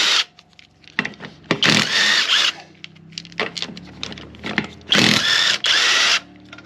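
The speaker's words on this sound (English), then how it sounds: "you can see just how easy these lug nuts are coming off" GATmatic GEW-800 21V brushless half-inch drive impact driver removing car lug nuts, several loud close bursts of rattling impact hammering separated by short gaps, with quieter spin-downs and clicks between them.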